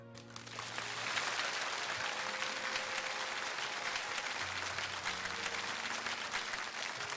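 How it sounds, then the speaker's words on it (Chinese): Warm, sustained audience applause fills a university lecture hall during a televised talk show, steady dense clapping from a large crowd that carries on for several seconds without letting up. "用热烈的掌声表达我们听懂了"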